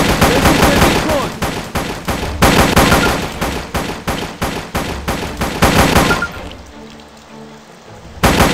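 Gunfire aimed at saboteurs during a bomb-defusal scene. Loud, rapid automatic shots come in dense, fast bursts for about six seconds, then stop briefly and start again.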